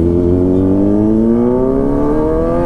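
A Kawasaki Z900 motorcycle engine revs up hard and climbs steadily in pitch, loud and close, with no talking.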